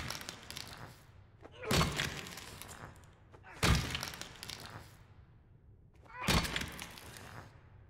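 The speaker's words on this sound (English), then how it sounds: "Like the gruesomeness of me smashing the hell out of this hand" Three heavy, crunching smashes land on a mannequin hand in the horror game Little Nightmares 2, each a loud broadband crack-and-thud spaced about two seconds apart over a low, dark ambient rumble.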